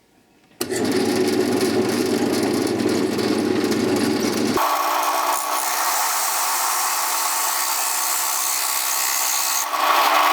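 A toy wheel cutter bores into very soft wood, giving a steady, loud grinding and rubbing whine that starts abruptly, shifts to a higher, harsher tone partway through, and runs continuously with no talk.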